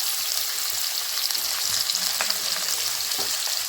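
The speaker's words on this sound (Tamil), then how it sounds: "நெக்ஸ்ட்டு வெங்காயம் போடுங்க பெரிய சைஸ் வெங்காயம் ஒன்று போட்டுக்கோங்க" A large chopped onion sizzles in hot oil with curry leaves while bhindi masala is cooked, a steady bright hiss with faint stirring scrapes.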